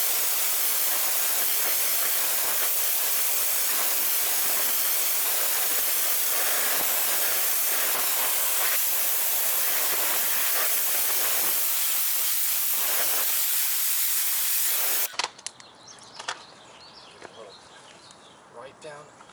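A pressure spray rinses brake dust and mud off a Mercedes-Benz wheel, giving a loud, steady, close hiss that cuts off abruptly near the end, leaving quieter scattered sounds and faint background activity.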